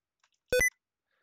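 A single short electronic chime from a Windows computer, triggered by pressing the Shift key five times to bring up the sticky keys prompt, ringing clearly and alone for about a fifth of a second in a quiet room.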